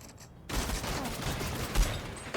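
Pistol fire in the video game Fortnite bursts in after a quiet half second, a dense rattle of rapid shots that holds as a loud, sustained volley for the rest of the moment, with no talk over it.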